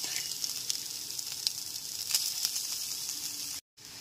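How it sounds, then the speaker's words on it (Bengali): Chopped carrots and capsicum fry over a low-to-medium gas flame with a continuous close hiss and sizzle, broken by a brief silence near the end. "গ্যাসের ফ্লেমটা লো টু মিডিয়ামে রেখে গাজর আর ক্যাপসিকাম কুচিগুলো ভেজে নেব।"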